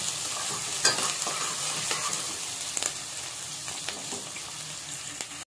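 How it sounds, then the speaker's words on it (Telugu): Three medium onions, chopped, frying in oil in a pan for a Gongura chicken curry, giving a steady close sizzle with occasional stirring scrapes and clicks, no talk. "3 మీడియం సైజ్ ఉల్లిగడ్డలు కట్ చేసుకున్నాను, అవి వేసేద్దాం. ఇవి బాగా ఫ్రై చేసుకున్నాము ఆయిల్లో."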